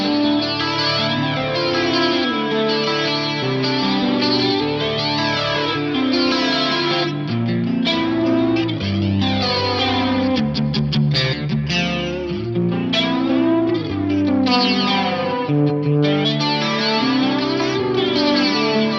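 Electric guitar chords shimmer through swirling flanger sweeps and repeating delay echoes from Memory Man and Deluxe Electric Mistress emulations on an Axe-Fx III, a continuous, full, moderately loud wash of jangly strummed notes.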